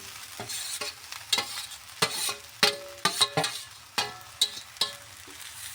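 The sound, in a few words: flattened rice (chira) being fried and stirred in a pan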